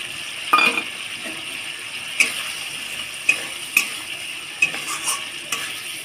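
Fried bitter gourd boras drop into a pan of boiling curry water in a home kitchen, a few separate soft plops and clinks of a spoon against the pot over a low bubbling simmer.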